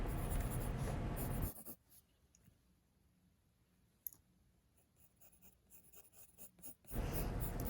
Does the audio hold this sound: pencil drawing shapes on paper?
yes